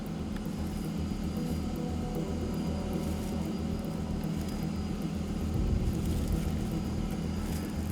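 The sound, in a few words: drone flying overhead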